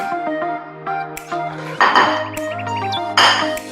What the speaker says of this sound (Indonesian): Sekarang kita buka ya, kita masukkan ke piring.